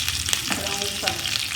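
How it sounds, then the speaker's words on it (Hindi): Chicken pieces frying in a small amount of oil in a pan, a brief close, steady sizzle with faint spattering and no voices. "देखिए दोनों साइड से हमारी चिकन कुक हो गई है।"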